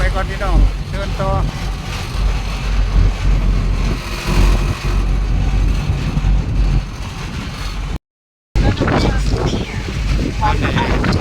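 Boat ride on a river with wind, a loud steady rush of wind buffeting the microphone over engine and water noise, continuous throughout with a brief dropout near the end.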